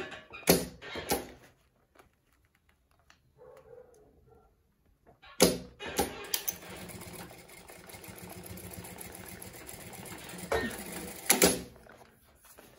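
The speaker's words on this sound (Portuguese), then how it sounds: "Máquina industrial vai que vai." An industrial sewing machine stitches the seams of a synthetic-leather multi-use toiletry pouch. A few sharp clacks come first, then after a quiet gap a steady, close mechanical whir runs for several seconds with no talking.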